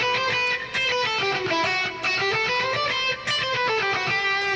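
Guitar picking exercise played on the high strings, a steady stream of rapid, evenly spaced picked notes, moderately loud and unaccompanied by talk.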